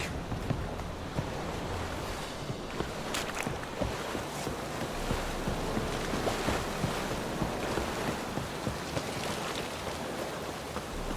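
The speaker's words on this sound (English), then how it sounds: "Looks like rain." Rain falls in the video game The Witcher 3, a continuous broad hiss mixed with gusting wind, steady and moderately soft throughout with no talking.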